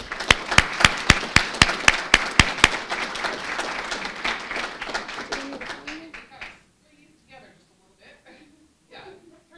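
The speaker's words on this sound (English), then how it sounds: "So one more final round of applause." A final round of applause at a school board meeting: loud, evenly spaced nearby claps over a broader crowd of clapping, with some chuckles, tapering off after about six seconds into quiet murmurs and brief talk.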